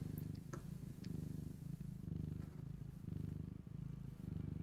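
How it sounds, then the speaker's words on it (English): A cat purrs steadily up close in a soft, rhythmic rumble, with faint sounds in the background. "They have a soothing energy when they're purring."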